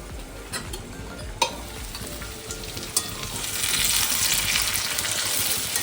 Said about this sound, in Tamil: ஐயோ, கப கபன்னு கொதிக்குது.